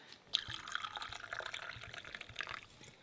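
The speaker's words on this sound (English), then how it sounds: "Hold on, I just need to get a place to pour it." Coffee poured into a cup at a safari camp in Damaraland, Namibia, a soft trickling liquid stream heard up close for about three seconds, with no talking over it.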